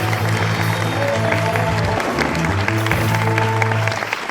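A studio audience claps in sustained applause, a dense, loud wash of hands throughout that softens slightly at the end, with a voice faintly audible underneath.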